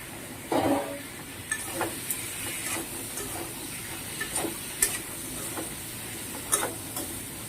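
Fried tomato, potato and pointed gourd stirred into frying masala in a pan, a soft steady sizzle with scattered scrapes and clatters from a spoon, fairly quiet overall.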